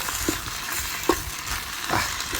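Fried rice, with sauce just added, is stirred in a hot pan: a constant soft sizzle runs underneath while a few scraping strokes of the utensil sound over it, close by and with no speech.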